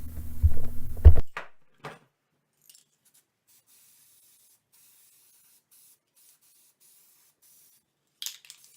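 A spray paint can hisses in a loud burst at the start, followed by a couple of short, fainter sprays and one more brief puff near the end, with long silence between.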